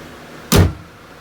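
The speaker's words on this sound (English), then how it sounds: "let me go ahead and close this hood." A single heavy thud as a car hood slams shut, sharp and close, then quiet.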